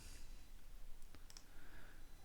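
A computer mouse clicking while a chart is built in software, with a few quick, light clicks close by, including a tight double click, over a faint background hiss.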